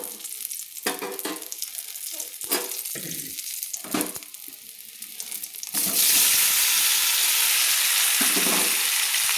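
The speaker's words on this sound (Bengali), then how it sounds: "খামালুগুলো আমি লাল লাল করে একটু হালকা লাল লাল করে ভেজে নেব" Potatoes frying in hot oil in a home kitchen, with stirring scrapes and spatters at first, then a loud, steady sizzle that takes over and stays bright to the end.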